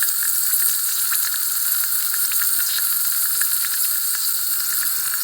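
Compressed air at 25 psi hisses steadily out of a leak during a leakdown test on a 2008 Triumph Tiger 1050 engine, a close, continuous sizzling spit like a frying pan with no other sounds.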